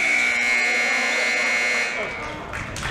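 A basketball game buzzer sounds at the end of the first quarter of a boys varsity high school game, a loud sustained tone that lasts about two seconds before crowd noise takes over.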